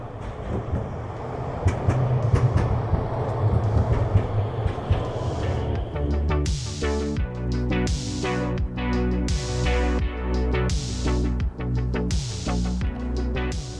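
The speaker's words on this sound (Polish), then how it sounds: "jak bardzo tramwaj tutaj blisko przejeżdża" A tram rumbles past close by, beside a church in Kraków, its wheels clattering rhythmically over rail joints with repeated sharp metallic clacks.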